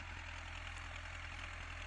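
A YuMZ-6 tractor engine drones steadily while ploughing a field at night before wheat sowing, a constant loud low rumble with no pauses and no talk.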